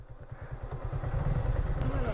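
Motorcycle engine labouring up a steep hill in first gear toward Keokradong, Bangladesh, a steady low throbbing drone that grows louder and rougher over two seconds, with the rider talking over it.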